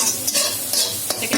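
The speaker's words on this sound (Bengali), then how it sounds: "এখন নেড়ে চেড়ে আমি রাইসটাকে ঢেলে দিলাম এটার ভিতরে।" Parboiled rice is stirred into a hot frying pan with capsicum, a close, brisk scraping and sizzling with a few quick stirring strokes.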